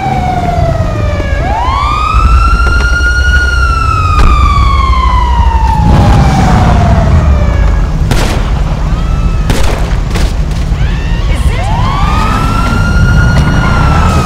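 A police car siren in GTA V Online wails loudly, sweeping up and down in long glides, with rumbling booms and bursts of noise in the background.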